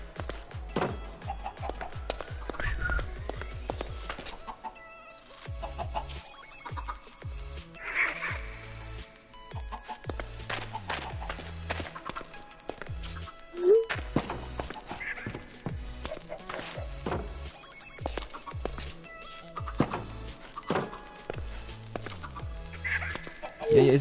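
Chickens clucking in Minecraft modded with RLCraft, short game animal calls scattered over busy in-game sounds such as footsteps and hoof-like clops, with a faint voice underneath.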